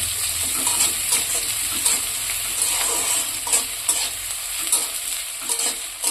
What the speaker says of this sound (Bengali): পেঁয়াজ কুচিগুলো একটু ভেজে ভেজে